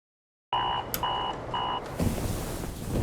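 An alarm in a TV advert for a dairy cooperative sounds three repeated electronic beeping bursts, fairly loud, before a burst of broadband noise takes over.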